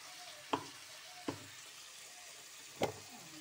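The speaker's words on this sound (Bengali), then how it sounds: "চিংড়ি মাছগুলো ভেজে নেব" Prawns frying in hot oil in a home kitchen: a soft steady sizzle with three sharp pops or spatters standing out, fairly quiet and with no voice over it.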